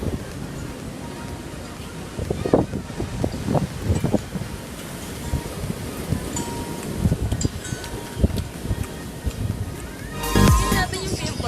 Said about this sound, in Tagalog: Ang lakas ng alon at ang lakas ng hangin.